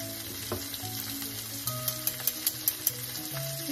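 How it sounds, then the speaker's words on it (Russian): Squid sizzles steadily in a hot pan, close up, with a few light clinks and taps of a utensil over the frying. "Жарятся такие кальмары, 2-3 минутки, не больше."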